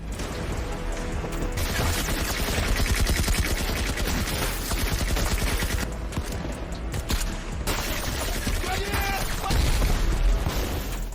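Continuous heavy gunfire and mortar fire in a war film, rapid bursts mixed with booming blasts, loud and dense throughout like a battle scene.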